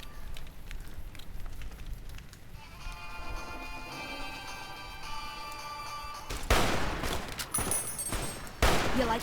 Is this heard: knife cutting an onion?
no